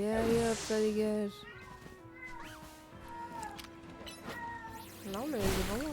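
Cat meows from the Pokémon Legends Z-A video game, several rising and falling calls in a row at moderate loudness, mixed with other game sounds.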